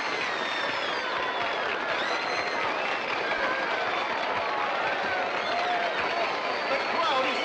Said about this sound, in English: The crowd is roaring so much.